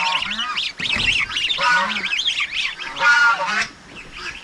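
Several geese honk repeatedly nearby, loud overlapping nasal calls filling the whole clip.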